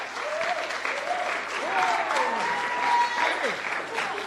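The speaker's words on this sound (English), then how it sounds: "you got the crowd up. There was a standing ovation" A large audience gives a gospel choir from South Africa a standing ovation, with steady, loud, continuous applause and some crowd cheering filling the whole stretch inside an Anglican church.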